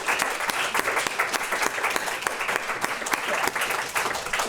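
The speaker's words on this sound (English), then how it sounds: "I'm just going to ask for a round of applause from everybody right now." Loud, sustained applause from an audience at an end-of-year student program presentation, thick steady clapping throughout with no pauses.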